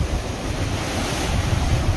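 Sea waves at high tide on Anjarle beach near Dapoli roll in as a steady, dense surf roar, with wind buffeting the microphone and no voices.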